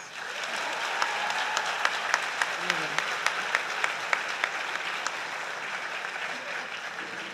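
An audience claps for occupational therapy graduates at a medical school pledge ceremony, steady mid-distance applause with a few sharper individual claps standing out, no voices over it.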